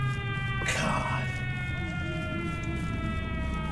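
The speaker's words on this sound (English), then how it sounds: "Isn't it kind of late to be putting on a siren?" A siren wails in a VHS-style horror video game, its bright tone sweeping up and falling under a droning background, with a brief voice briefly heard early on.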